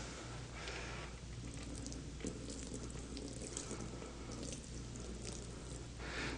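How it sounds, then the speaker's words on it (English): About two cups of water poured from a pitcher onto an entrance mat, a faint, steady trickle and splash that runs quietly and continuously. "I have here is a pitcher that has 2 cups of water, and I'm going to put the water on the mat."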